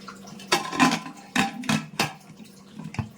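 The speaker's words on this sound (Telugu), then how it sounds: "వాటర్ పోసుకుందామండి." Water is poured into a pressure cooker for mutton fry, with several short splashing pours and clinks of a metal vessel in a kitchen, close and moderately loud, with no talking.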